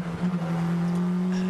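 McLaren GT race car engine heard onboard at Nogaro, a loud sustained steady drone holding a constant pitch near the final corners, with no talk.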